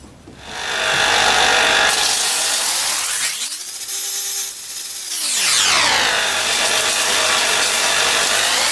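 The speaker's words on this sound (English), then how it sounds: "put this on a bench grinder just to smooth off the edges" A bench grinder smoothing the edges of a steel knife: a loud, abrasive grinding hiss as the blade is pressed in, easing off mid-clip as the motor pitch dips and recovers, then resuming the steady grind.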